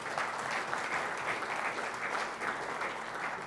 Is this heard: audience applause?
yes